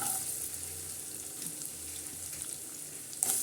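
Onion and tomato sizzle as they hit a hot cumin and garlic tempering for a spicy Malvani-style mandeli fish curry, with a steady frying hiss and faint stirring, plus a brief clatter near the end.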